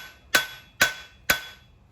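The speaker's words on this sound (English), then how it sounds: "Now I'm going to hammer the rest of it." Three evenly spaced, ringing hammer blows on hot metal at a coal forge with an electric blower, each strike sharp and bright with a short decaying ring, close and loud with no talk.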